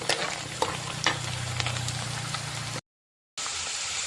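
Curry leaves sauté in hot oil in a pan for a Pathanamthitta-style fish curry, giving a steady crackling sizzle with sharp pops and stirring scrapes, broken by a short silent gap before the frying resumes.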